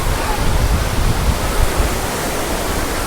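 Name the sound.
Tiger Point waterfall at Mainpat, falling water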